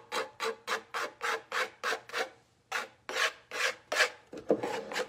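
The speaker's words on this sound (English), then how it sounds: "you should use like a plastic scraper because it's not as invasive as like a metal one" A plastic scraper rasps Fusion milk paint off a painted surface in about a dozen rhythmic strokes, each a loud, close scrape, with a brief pause midway and no talking.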